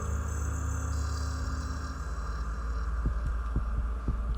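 Heartbeat sound effect from the horror video game Tiny Bunny, a deep rhythmic throbbing that beats steadily over a low hum, with several distinct thumps growing clearer toward the end.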